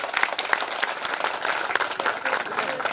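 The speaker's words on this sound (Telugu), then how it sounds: "గట్టిగా చప్పట్లు కొట్టండి." Audience applause fills a ribbon-cutting ceremony at a Sardar Sarvai Papanna statue unveiling, steady dense clapping throughout with crowd noise and a voice speaking over it.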